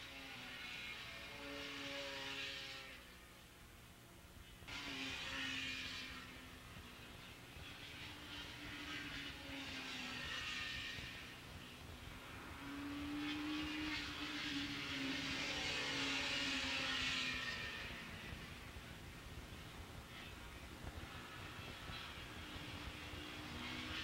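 Racing motorcycles, including a 750-class production bike, lap Willow Springs International Raceway, their engines droning loud and steady at speed with rising and falling pitch as they pass, continuous throughout without talk.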